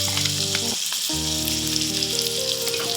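Onions frying in a pan with curry leaves, a strong continuous sizzle broken by a short dip, with steady tonal hum from the stove underneath.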